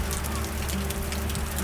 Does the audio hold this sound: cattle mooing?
no